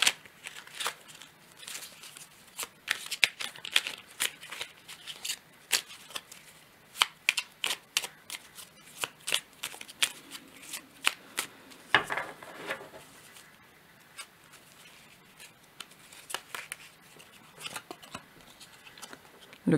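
Tarot cards are shuffled and drawn, making rapid bursts of crisp flicking and snapping with a brief pause and soft handling sounds between them, close and fairly quiet.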